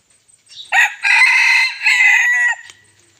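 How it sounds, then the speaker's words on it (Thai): A rooster crows once, loud and close: a drawn-out cry with a sharp start and a long, slightly wavering tail, alone against quiet surroundings. "ฟังเสียงขันนะครับ"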